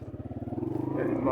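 A motorcycle climbs a rough, broken dirt track near Mangla Dam, its engine thrumming in a steady pulsing rhythm that grows louder toward the end, with someone talking over it.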